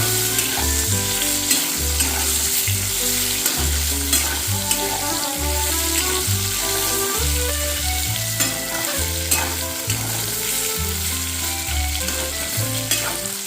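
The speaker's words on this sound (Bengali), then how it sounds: "একটু লালচে করে এটা ফ্রাই করে নিতে হবে" Eggplant and egg frying in a pan until reddish, a loud continuous sizzle with rhythmic stirring scrapes throughout, close and without talk.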